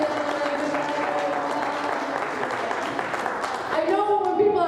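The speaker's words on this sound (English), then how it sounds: "I know when people are clapping," A comedy-club audience claps and cheers in a steady, dense wash of applause, with a voice speaking over it as the clapping continues.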